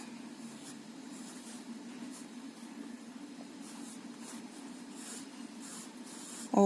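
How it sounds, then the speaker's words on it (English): A pencil draws dark lines on paper, a faint, continuous scratchy rasp in short strokes over a low room hum, with no voices. "Here I am drawing little bit dark lines because you have to see that."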